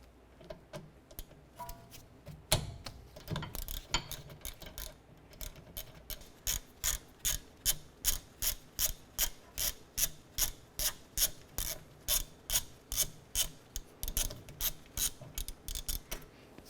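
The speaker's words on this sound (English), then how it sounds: "And 12mm socket, we're going to remove this bolt here and this bolt here." A hand ratchet on a 12mm socket loosens the rear brake caliper bolts of a 2008-2012 Honda Accord. A few scattered clicks at first give way to a long, even series of close, crisp ratcheting strokes.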